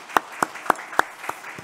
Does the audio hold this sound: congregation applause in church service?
yes